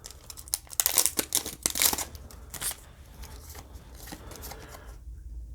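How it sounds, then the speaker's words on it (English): Pokémon Sword and Shield booster pack ripped open by hand: a burst of sharp foil crinkling and tearing, loud and close, then softer rustling of the wrapper and cards before trailing off. "Alright, let's do Sword and Shield. We'll rip that right open."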